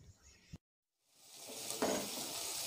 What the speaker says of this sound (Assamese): নহৰু আৰু পিঁয়াজ অলপমান ৰঙা নোহোৱালৈ মই ভাজিম।